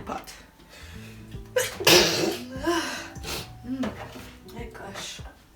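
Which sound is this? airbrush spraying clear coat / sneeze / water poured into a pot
sneeze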